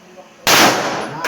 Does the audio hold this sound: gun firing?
yes